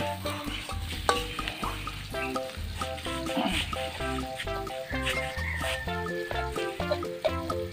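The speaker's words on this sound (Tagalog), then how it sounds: "Hintayin lang natin mag-golden brown yung ating sibuyas." Chopped onions fry in a pan toward golden brown, a steady close sizzle with bubbling, stirring scrapes and occasional sharp pops, no talking over it.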